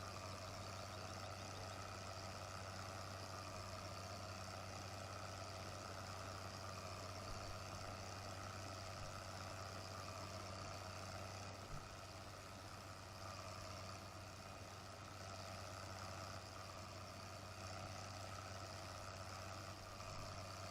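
An articulated tractor in Farming Simulator 15 runs with a steady, quiet low engine drone and whine that holds constant throughout, without talk.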